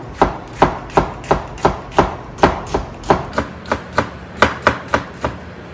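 A knife chops vegetables for japchae on a cutting board in a steady, even rhythm, with about fifteen crisp close strokes and no talking.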